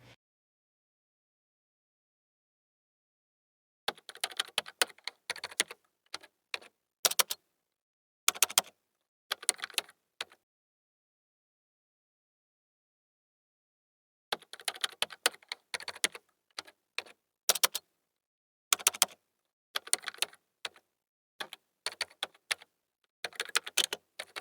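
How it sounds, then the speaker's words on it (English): Typing on a computer keyboard comes in quiet separated bursts of quick clicking keystrokes with silent pauses between them, and no talking. "I'll type that in here."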